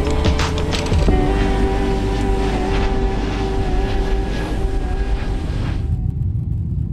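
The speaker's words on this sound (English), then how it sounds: "And after a 13-hour flight, they land in Abu Dhabi." Steady engine drone inside an airliner on a 13-hour flight, a constant low rumble and roar with a faint tonal hum, sustained without pause until it drops away near the end.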